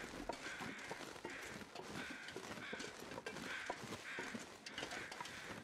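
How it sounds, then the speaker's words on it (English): Crows caw intermittently in foggy snowy woods in The Long Dark, a survival game, several repeated calls spaced over a steady wind-like background, moderately distant. "I hear crows."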